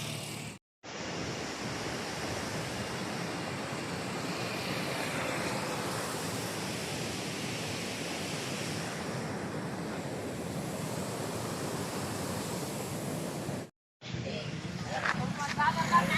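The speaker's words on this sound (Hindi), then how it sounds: "नदी की कलकल छलछल आप लोगों को सुनाई पड़ रहे होंगे।" Damodar river in full rushing flow after the Tenu Ghat dam gates were opened, a steady broad wash of churning water that fills the whole stretch, with a short break near the start and another near the end.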